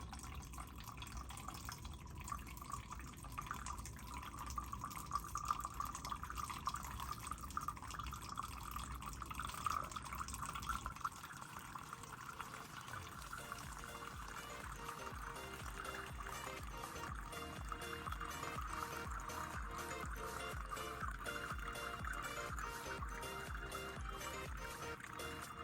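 Water trickles and drips down a homemade rain chain while plants are watered, a soft, continuous splashing patter close by that turns into a more rapid, uneven dripping in the second half.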